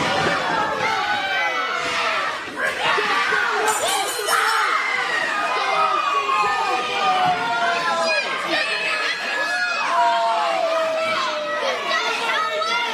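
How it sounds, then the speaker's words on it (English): Crowd at a wrestling ladder match reacting with sustained, loud mixed shouting and jeering throughout, with voices rising and falling in a dense arena roar. "So the crowd was not happy."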